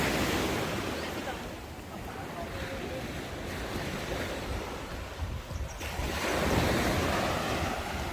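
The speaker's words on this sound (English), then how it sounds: "here on the beach there's a few resorts here that are open" Waves break and wash along Chaweng Beach on Koh Samui, a continuous surf rush mixed with heavy wind buffeting the microphone, swelling louder toward the end.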